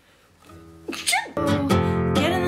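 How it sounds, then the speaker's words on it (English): A single loud human sneeze, close and isolated, with a short inhaled build-up before a sharp burst and trailing exhale. "Oh, I gotta sneeze."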